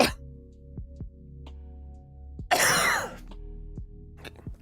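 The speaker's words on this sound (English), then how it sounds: "I have something in the back of my throat." One person coughs and clears their throat, a single loud rasping burst standing out against a quiet steady hum, with a few small clicks around it.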